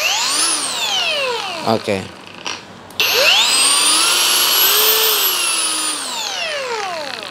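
An NRT PRO TG 99DC cordless 20 V 4-inch variable-speed angle grinder whines loudly up close, its pitch ramping up and down, stopping briefly and then spinning back up, with a short spoken word in between.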